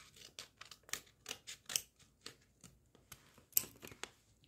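Scissors snip open a plastic Roblox blind bag in a quick series of about a dozen close, crisp cuts and crinkles, fairly quiet with short pauses between.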